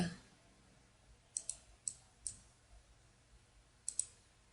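Several sharp, light computer mouse clicks sound in a quiet room while working in Flash CS6, coming singly and in quick pairs spread irregularly over a few seconds against a low hum.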